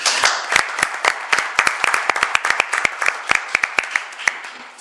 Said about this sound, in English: I'd like to propose a brief round of applause